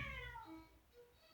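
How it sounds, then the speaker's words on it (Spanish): Cats yowl in a fight, drawn-out wavering cries that rise and fall, faint and somewhat distant, for just over a second. "Pelea de gatos."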